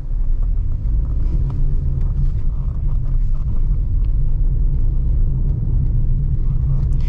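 Steady engine drone and road rumble inside a Maruti Ertiga CNG while driving, a continuous low even hum with no talking.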